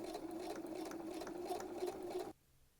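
A sewing machine running a regular straight stitch along a hem fold, a quiet rapid rhythmic whirring that runs steadily for about two seconds and then stops abruptly.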